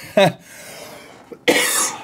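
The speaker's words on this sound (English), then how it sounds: "That COVID cough is kicking my ass." Two sharp, close coughs from a person with COVID, about a second apart, the second one harsher and drawn out.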